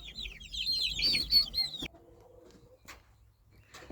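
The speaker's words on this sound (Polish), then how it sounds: "Niestety zostały nam tylko dwie kurki i jeden kogucik." Backyard chickens, two hens and a rooster, cluck near a coop at dusk, with a dense burst of clucking and calls over the first two seconds, then a quieter stretch of scattered clucks and faint rustling.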